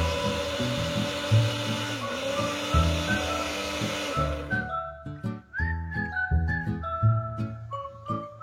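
A Cosmos CB-802 blender runs with a loud, dense motor whir that then winds down and stops about halfway through, leaving fainter clicks and ringing tones afterward.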